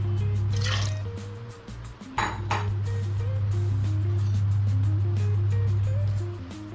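Water is poured into a pressure cooker holding soaked kidney beans, a steady liquid trickle and fill with a couple of metallic clinks and a brief splash partway through, close and fairly loud, with no talk.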